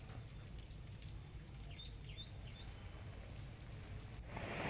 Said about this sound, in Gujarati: કલ્યાણપુર પંથકમાં લાંબા વિરામ બાદ ધીમી ધારે વરસાદ વરસ્યો